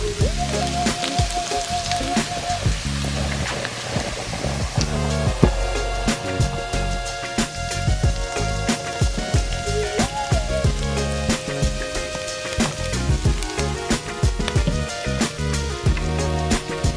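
Vegetables cooking over an open fire for brunch, a constant crackle and sizzle like light rain, with sharp pops and snaps scattered throughout at close range, no talking.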